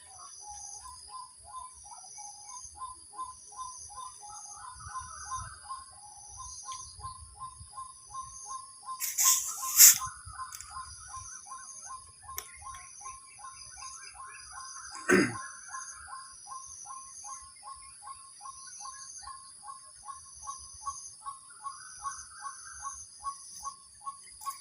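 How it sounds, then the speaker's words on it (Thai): Birds call outdoors, steady repeated chirps and trills layered with a louder cawing burst midway, over faint background hum and insect-like buzzing. "ยินเสียงนกแล้วค่ะท่านผู้ชม"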